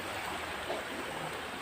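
A river flows steadily in a continuous broadband rush with no distinct splashes, heard at moderate distance and fairly quiet.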